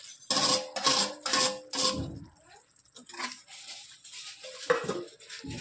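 Cooked okra tipped into a pan of masala gravy and mixed, a run of loud metal clanks and scrapes of a spoon against the pan followed by softer wet stirring and occasional knocks, close by with no talk.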